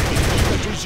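Gunfire from a shooter video game, a dense, loud burst of rapid shots lasting under a second.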